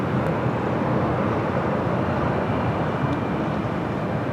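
Delta airliner taking off from runway 24 left at LAX, a constant loud broadband jet roar that holds steady throughout, with no voices over it.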